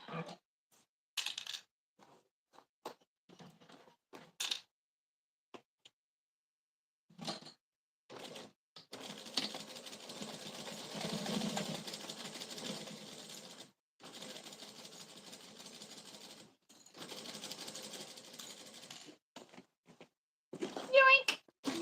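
A sewing machine stitches fabric in a home craft setting, running in several stop-start bursts of rapid mechanical whirring with quiet gaps between, interspersed with voices talking nearby.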